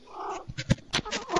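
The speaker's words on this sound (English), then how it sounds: "Do you have a cat?" A cat's short, strained caterwaul-like meows, close and fairly loud, heard during an online gaming voice chat.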